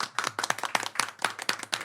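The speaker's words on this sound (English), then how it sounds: "That was just clapping for Aaron." A small group claps for Aaron at the close of a Spark and Plug talk in Tokyo, with sharp, fairly steady claps about four per second, close and clear, lasting just under two seconds.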